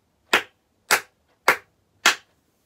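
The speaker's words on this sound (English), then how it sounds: "So I'm going to start by doing some claps." Four sharp hand claps, evenly spaced, crisp and close, with silence between them.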